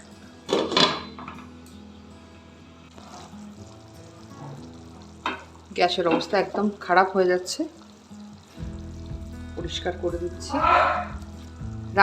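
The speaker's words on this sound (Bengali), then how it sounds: "এবার এটাকে ভালো করে কষিয়ে নেবো" Spinach and paneer masala with salt and sugar sautés in a pan, giving a soft sizzle with scraping stirs and clatter. A voice speaks intermittently over the cooking.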